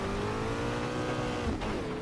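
Formula Dirt car engine in the Automobilista racing game, revs climbing in a steady rising whine before a brief dip and bog, loud and continuous with no voices.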